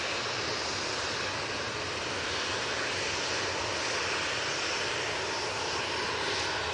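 A Boeing 787-8 Dreamliner climbing out after takeoff from Manchester Airport, heard as a loud, steady broadband jet roar that holds without a break.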